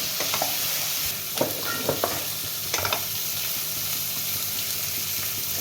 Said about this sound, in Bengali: মশলাটা প্রায় ভাজা হয়ে এসছে